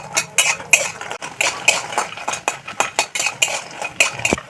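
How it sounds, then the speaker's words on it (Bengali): Biuli dal bori, homemade lentil dumplings, being stirred while they fry until reddish, with repeated close metal clinks and scrapes of a utensil against the pan in an irregular rhythm, no talking. "বড়িটা আমি একটু লাল করে ভেজে নেব"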